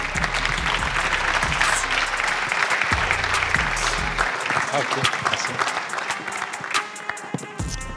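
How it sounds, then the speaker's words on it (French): An audience applauds at a sport inclusion awards ceremony, sustained dense clapping heard over background music that fades out midway, with the applause continuing loud and steady to the end. "On peut les applaudir encore, s'il vous plaît."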